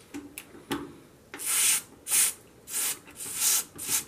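Silicone spray squirted onto the hinge of a Hotpoint Ultima gas cooker oven door, five short hissing bursts in a steady rhythm, close and fairly loud, with a few light taps and rubbing knocks before the first burst.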